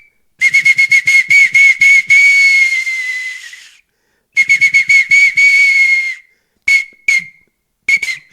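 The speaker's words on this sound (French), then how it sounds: "une phalange de rennes. Il y a un trou au milieu, et je vais m'en servir comme sifflet" Shrill, piercing whistle blasts from a reindeer phalanx bone whistle, first a quick rhythmic run of short toots ending in a long held note, repeated, then a few isolated short peeps.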